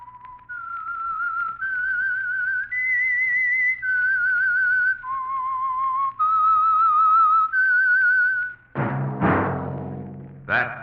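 A lone whistler carries the slow, wavering theme of the radio program The Whistler in long sustained notes, followed by a short burst of orchestral music.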